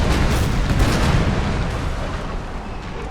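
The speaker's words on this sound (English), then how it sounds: "So we got 16 cannons ready to blast." A full broadside from sixteen ship's cannons in Napoleon: Total War naval combat, a loud rolling wall of deep booms that swells and then slowly decays over about three seconds, with no voices.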